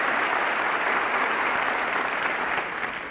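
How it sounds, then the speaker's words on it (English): Sustained audience applause at a stand-up comedy performance by Rita Rudner, a dense, steady wash of clapping throughout that eases off slightly at the end, with no talking over it. "Applause for 2 years."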